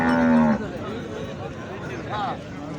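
Cattle at a busy livestock market in Fatehpur give a low moo at the start, followed by a fainter, more distant call later, under steady crowd chatter and nearby talking.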